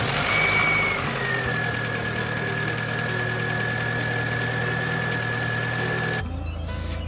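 A Mk1 Audi TT 225 engine idles steadily with a faint whine above a low, even hum, close by and with no voices. It drops abruptly near the end.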